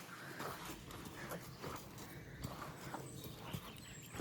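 A pony walks with soft, faint clip-clopping hoofbeats in a loose, uneven rhythm, set against low outdoor background noise.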